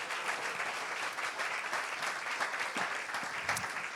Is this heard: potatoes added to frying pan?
no